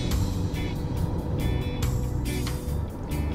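A car on the road between Spanish Town Bypass and Portmore, St Catherine, Jamaica, heard from inside as a steady, loud engine and tyre rumble with brief higher swishes of passing traffic.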